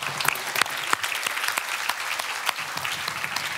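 A church congregation applauds during a worship service, dense steady clapping from many hands filling the room, moderately loud and continuous.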